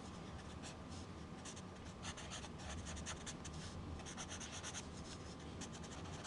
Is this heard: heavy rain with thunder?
no